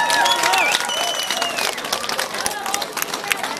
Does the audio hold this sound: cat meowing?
no